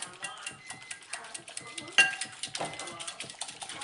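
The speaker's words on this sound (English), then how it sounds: "I got my eggs and I got a little whisk, and I'm just whisking away until I get a nice little consistency on it." Eggs beaten with a small whisk in a bowl, a quick steady run of light metallic clicks and scrapes close by, with one sharper clink midway.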